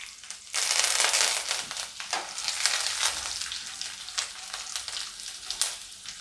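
Green chillies and curry leaves crackle and spit in hot oil while Indori poha is being made, a loud dense sizzle that bursts in suddenly and keeps popping and hissing with sharp spikes throughout.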